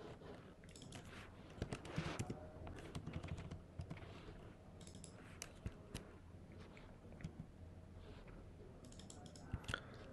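Computer keyboard typing in a wall-panel design program, scattered clicks and keystrokes at a low level, fairly quiet throughout.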